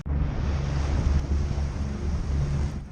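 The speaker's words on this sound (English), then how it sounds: "Waves running 3 to 5 feet made the boating more of an adventure" Steady wind and rolling ocean surf at sea off Fajardo, Puerto Rico, with 3 to 5 foot waves; a continuous loud rumbling wash with buffeting wind noise on the microphone, no voices.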